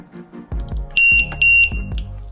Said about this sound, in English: you'll hear a little beep, and it'll tell you the voltage of all the cells